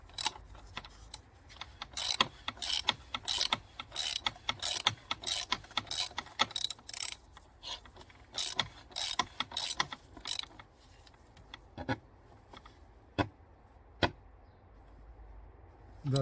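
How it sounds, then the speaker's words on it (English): Socket ratchet tightening a bolt on an Audi A6 C7 engine: rapid runs of sharp ratcheting clicks in bursts, close and fairly loud, thinning to a few isolated clicks toward the end. "I'm going to use the same socket again to tighten it up."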